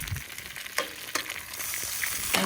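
Eggs cracked one after another into a frying pan at a campsite during a rainstorm, with sharp shell taps and crackles over a steady close sizzle and frying hiss, no voices.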